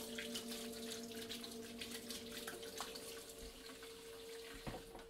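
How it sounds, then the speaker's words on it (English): Tap water runs steadily into a kitchen sink as hands are washed, a soft continuous splashing with a faint hum beneath and a brief clunk near the end, no voices. "let me wash my hands a little bit."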